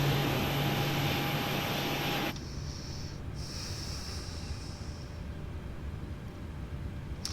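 Boeing 737-800 engines running in Microsoft Flight Simulator 2020 give a steady, loud jet roar with a high whine that drops to a quieter hum partway through, with a brief breathy hiss later.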